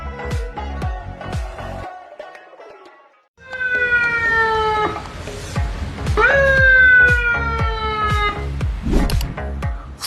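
A private clinic ambulance siren wails nearby in repeating rising and falling electronic sweeps, loud and continuous, with a brief gap before the tone shifts to a faster yelp pattern.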